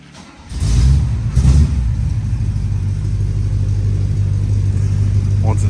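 A 1955 Chevy 210 engine fires after a short crank and settles into a loud, close, steady idle that rumbles on without pause.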